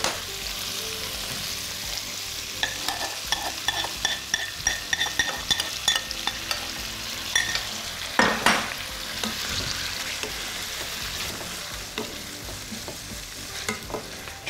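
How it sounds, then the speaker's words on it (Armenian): Pork and vegetables sizzle steadily in a hot pan with sauce while a utensil stirs and scrapes, close and continuous with irregular clatters over the frying hiss. "Բանջարեղենը լցնելուց հետո վրան ավելացնում ենք սոուսը։"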